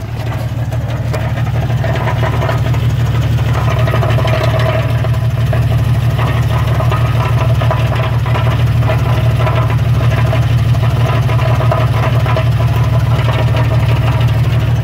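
A Jeep engine with a Flowmaster exhaust runs at a steady idle, a loud, constant low drone. The tone stays even and unbroken throughout with no speech.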